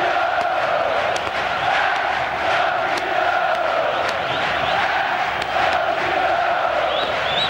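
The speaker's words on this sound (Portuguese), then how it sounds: "A torcida do Botafogo grita mais forte" Botafogo supporters roar and chant in the packed Maracanã during the 2006 Campeonato Carioca final against Madureira, a loud, unbroken wall of crowd voices with rhythmic shouts rising through it.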